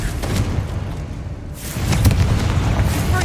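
Confringo fire-blast spell in Hogwarts Legacy, a sustained rumbling boom with crackling bursts that swells again halfway through, loud and close, with no speech over it.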